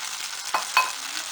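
Yakhni broth poured into a hot pan sends up a short rushing hiss with two quick splashy bursts, close and fairly loud, over a brief moment.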